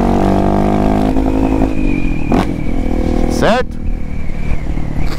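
A motorcycle with an unfiltered Dore exhaust revs loudly and steadily, its pitch climbing and dropping through gear shifts, while someone talks over the engine noise up close.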